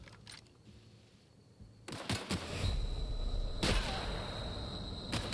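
Shotgun fire in the video game The Outer Worlds, a few loud sharp blasts in a quiet game scene, with a steady tonal background hum after the first shot.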